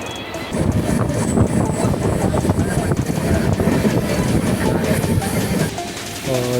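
An intercity passenger train on the Mumbai–Pune line runs steadily on its rails, a loud continuous rumble with rhythmic clickety-clack from inside the carriage, lasting throughout with little change.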